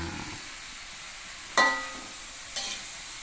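Genjer fries in a pan with a steady, even sizzle, and two sharp clanks ring out as it is flipped with a utensil.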